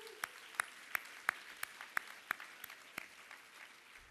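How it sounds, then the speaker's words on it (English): Audience at a volunteer and AmeriCorps anniversary program applauds itself with sparse, faint clapping: a dozen distinct, evenly spaced claps over a thin background, as if only a few hands in a quiet room. "let's go ahead and give yourselves a round of applause again."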